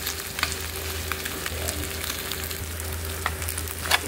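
Pan-fried tofu for a tofu sisig dish with chicken, sizzling steadily in hot oil with occasional sharper crackles and pops, close and continuous with no voices.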